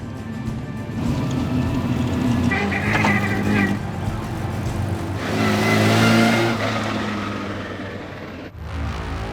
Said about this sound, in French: parmi les premiers à s'élancer dans un froid glacial, mais bien équipés à bord d'un roadster